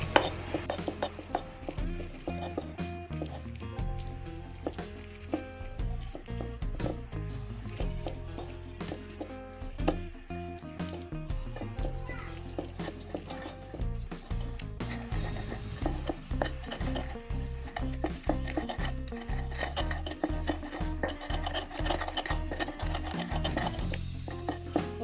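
Coarse grinding of green chili sambal in a stone mortar with a pestle, a steady run of close, repeated scraping and pounding strokes with a gritty, rhythmic texture throughout, no voices.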